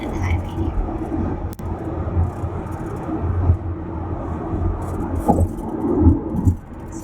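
A car cruises along a two-lane highway out of New York City, giving a continuous low road rumble and cabin noise with small bumps and shifts.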